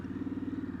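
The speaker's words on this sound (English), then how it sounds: "So the exhaust sounds really good" Harley-Davidson Sportster S, a 2022 model fitted with a TBR aftermarket exhaust, burbles steadily with a low, pulsing engine note. The sound is loud and continuous at idle or on light throttle, with no voices.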